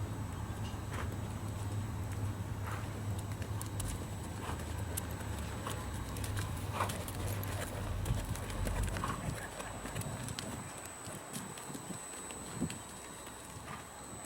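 Steady clip-clop of horse hooves on soft arena footing during a shoulder-in training exercise, a rhythmic muffled patter beneath a constant background hum, no talking.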